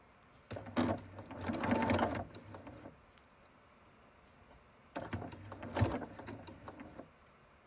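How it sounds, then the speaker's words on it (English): A sewing machine stitches quilt squares in two short bursts of a couple of seconds each, close and mechanical, separated by a quiet pause. "And now I am going to actually sew those squares down."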